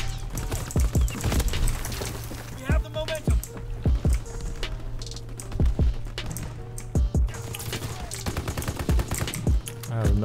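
Call of Duty: WWII on PC, with dense automatic gunfire and repeated sharp shots that run almost without pause under steady battle noise.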